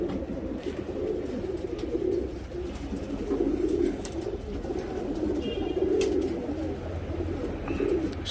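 Young tournament pigeons coo steadily in low, throaty pulses, a continuous close murmur of several birds with no talk.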